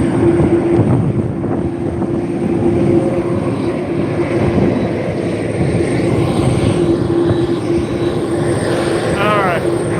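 An MD-11 jet airliner departing, its engine jet wash a loud, steady roar with a constant tone throughout, heard close and outdoors, with a person talking briefly over it near the end.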